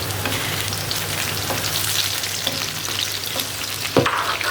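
Onion, ginger and green chillies fry in oil in a pan with a steady, close hiss and crackle, broken near the end by a single stirring clatter.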